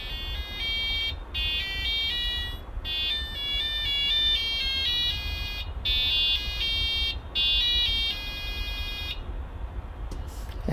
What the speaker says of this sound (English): The buzzer a little bit too noisy, so I'm gonna cover it with a finger right here.